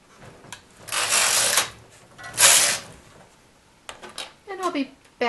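Domestic knitting machine carriage swept across the needle bed to knit rows of a diagonal edging, two loud rasping passes in turn, then a lighter clatter near the end, with no talking.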